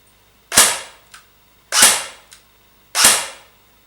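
An airsoft Galil ARC replica with a T238 motor dry-fires three loud, sharp mechanical shots about a second apart, each followed by a faint, softer click, with no voices.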